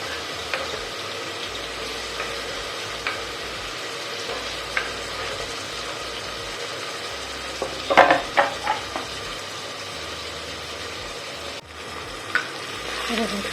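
Tomatoes sauté over ginger and garlic in a pan for matar pulao, a long even sizzle with sparse stirring taps and a brief burst of scraping midway, close and free of talk.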